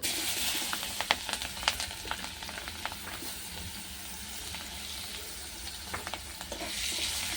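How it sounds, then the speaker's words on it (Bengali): Chopped onion fries in oil left over from frying rohu fish, giving a soft, even sizzle with faint crackles and occasional gentle stirring taps, fairly quiet and close. "ওই একই তেলে দেবো পেঁয়াজ কুচি"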